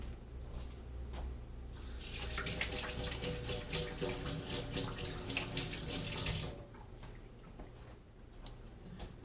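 Water running from a kitchen tap for handwashing, a steady hissing stream that starts after a couple of seconds, runs for about five seconds, then shuts off, with faint handling sounds around it.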